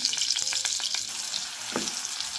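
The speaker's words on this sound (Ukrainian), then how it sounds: "Смажитимо овочі на олії та на вершковому маслі." Finely diced onions sizzle and crackle in oil and butter, a steady frying hiss with a few scrapes of stirring.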